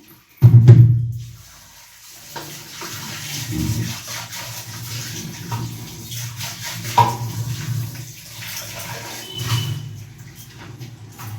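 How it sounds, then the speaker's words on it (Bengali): A utensil being washed under a running kitchen tap, with a splashing burst of water at the start followed by uneven rushing and clattering flow for several seconds, close and fairly loud. "এটা আবার পরিষ্কার করে ধুয়ে নিই"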